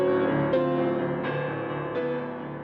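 A piano plays an abstracted Chickasaw melody in resonant, sustained notes that arrive at a steady, unhurried pace and blend together, close and moderately loud, with no talking.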